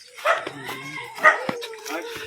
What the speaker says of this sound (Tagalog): maraming aso ron sa kabila eh